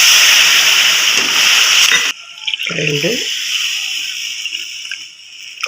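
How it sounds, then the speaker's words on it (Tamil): Three cups of water pour into a hot pot of rice and lentils with a loud rushing hiss, then cut off abruptly; afterward a faint sizzle lingers while a voice speaks briefly. "மூணு கப்பு தண்ணி ஊற்றிக்கலாம்"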